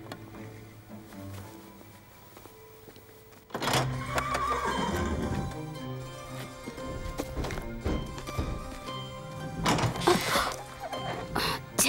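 A horse in a dubbed fantasy film scene lets out a loud whinny after a quiet opening, with thumping hoof-like clatter and scene noise continuing close behind.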